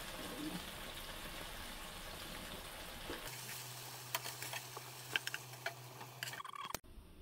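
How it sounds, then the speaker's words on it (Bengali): Chicken pieces frying lightly in hot oil for a pulao, with a steady sizzle, scattered ticks and clinks of stirring, and a low hum partway through before the sound cuts off abruptly. "চিকেনটা হালকা ভেজে নিলাম"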